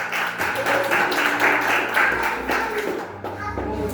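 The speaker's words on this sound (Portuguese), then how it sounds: "Aplauda o Senhor pelo time de glória" Congregation applauding during a church service, a dense wash of clapping hands that holds steady for several seconds, with voices mixed in.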